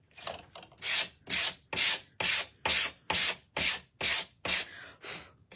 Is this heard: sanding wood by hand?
yes